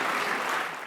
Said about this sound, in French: Le résultat est applaudi